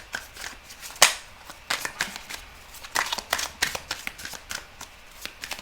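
Tarot cards shuffled by hand for a cross spread, a rapid run of crisp riffling flicks with one sharp louder snap near the start, close and alone without talk.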